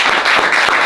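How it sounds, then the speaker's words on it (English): Audience applause for the directors at a directors-to-actors Q&A session: a brief, dense burst of steady clapping, close and loud, with no voices over it. "So I want to give you guys a big round of applause"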